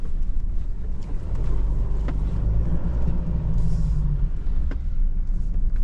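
A Toyota HiLux 48V hybrid spins its wheels in sticky, clumpy sand, making a loud continuous rumble with surging engine drone and heavy wind buffeting, plus a few scattered knocks.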